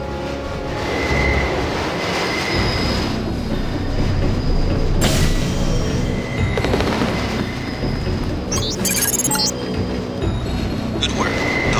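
A train in the video game Deus Ex rumbles and clanks steadily, with mechanical booms and metallic hisses near the end.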